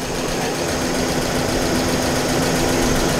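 A V8 car engine idles steadily with a large cooling fan whirring at the front under the hood, producing a constant, close, loud drone with an even hum and no pauses.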